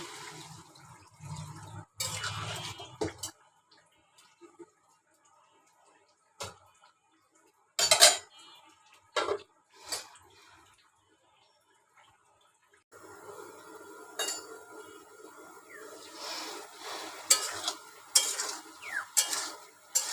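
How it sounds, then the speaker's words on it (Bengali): Mixed five-vegetable curry being stirred and fried in a pan: sparse, quiet scraping and clattering of a utensil against metal in scattered bursts, separated by near-silent pauses, with soft sizzling later. "এভাবে কিছুক্ষণ কষায় নেব সবজিটা।"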